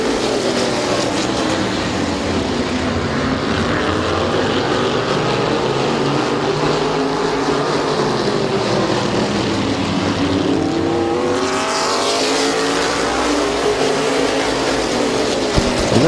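Stock cars race at Midvale Speedway, and the loud, continuous engine roar swells and fades as a pack sweeps past, with its pitch rising and falling as the cars speed by.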